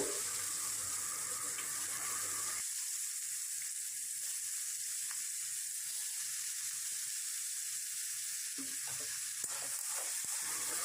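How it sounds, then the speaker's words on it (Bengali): Potatoes fry in hot oil with dried red chillies in a kadai, giving a continuous close hiss and crackle that thins slightly after the first few seconds, with occasional faint clinks and no voices. "এবার এই তেলের মধ্যে আলুগুলো ছেড়ে ভেজে নেব।"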